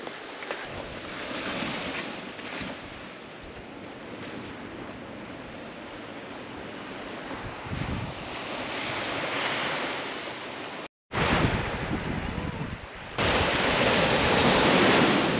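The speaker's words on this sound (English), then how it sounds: "We've got some blue water, some beautiful blue water here, crashing." Ocean waves crashing on the shore at Coffin Bay National Park, a steady roar of surf with swelling breakers and gusts of wind buffeting the microphone, briefly cut off before resuming louder.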